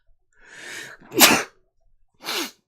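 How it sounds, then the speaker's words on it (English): A single loud sneeze, a breathy inhale followed by a sharp burst, then a smaller second burst a moment later. "I'm about to sneeze"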